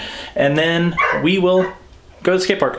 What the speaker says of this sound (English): Also, you can probably hear my dog outside.